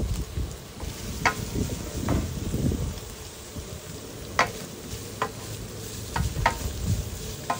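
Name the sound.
boiled ground pork added to sautéed onions, frying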